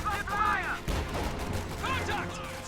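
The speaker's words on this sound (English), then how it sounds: "Contact! Small arms fire!" Small arms fire crackles in a WWII strategy video game, scattered bursts and pops of rifles and machine guns with overlapping game voice lines, fairly loud throughout.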